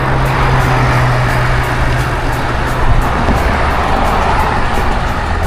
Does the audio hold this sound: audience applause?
no